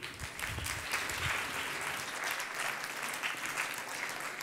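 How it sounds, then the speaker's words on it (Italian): An audience at a regional science-communication final in Trieste applauds a contestant, a broad steady clapping that stays even and fairly faint for several seconds. "un grande applauso per Federico Biasutti"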